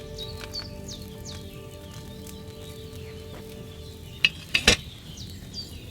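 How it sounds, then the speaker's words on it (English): A cauldron set over a flame in the medieval video game Kingdom Come Deliverance 2 bubbles and simmers softly and steadily, with chirping birds and a few sharp clicks around it. "Hear that bubbling? It's boiling."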